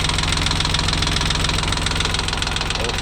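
A Kubota L3608 tractor's diesel engine idles close by, a loud, steady knocking chug that holds an even rhythm throughout with no other sounds.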